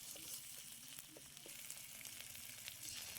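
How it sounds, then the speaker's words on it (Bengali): Chopped tomatoes with ginger and garlic paste stirred and fried in a pan, a faint steady sizzle with soft intermittent scraping and pressing strokes. "খুব ভালো করে নাড়াচাড়া করে চেপে চেপে টমেটো গলিয়ে নেব।"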